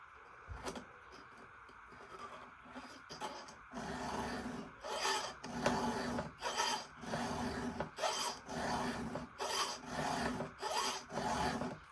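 A cutting tool being sharpened with a file, rhythmic rasping strokes that start sparse and settle into a steady back-and-forth pattern of about a dozen close strokes, with no voices.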